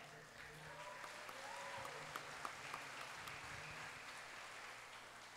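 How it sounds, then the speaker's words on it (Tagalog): Church congregation applauding at a night of praise worship event, a faint, steady patter of many hands clapping at a distance with no speech over it. "Yung palakpak na naniniwala."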